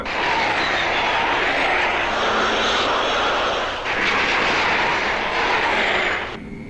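An airplane engine drones loudly and steadily overhead for the whole stretch, with a broad roar that shifts slightly in tone partway through and no voices over it.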